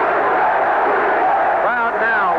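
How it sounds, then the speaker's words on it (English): A boxing arena crowd at a Benitez versus Palomino fight roars and chants in a dense, continuous wash of voices, with individual shouts rising above the din. "Crowd now won't stay down. One by one, row by row, they stand and start that chant."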